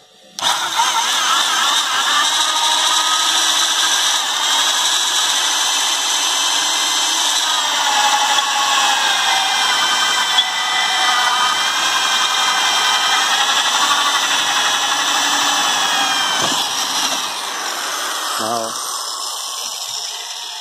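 A Japanese 100V handheld electric drill runs continuously at a steady, loud whine for a long stretch, dipping slightly near the end, with no talk over it.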